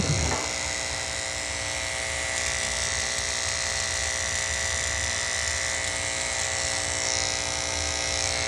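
An electric dog grooming clipper buzzes steadily and close as it trims a Yorkie during a small-dog makeover, a continuous even drone with a faint high whine that holds without a break for the whole stretch.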